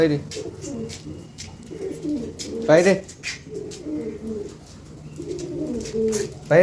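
Desi pigeons coo in a loft, low throaty calls repeating nearby while a person shouts repeatedly over them.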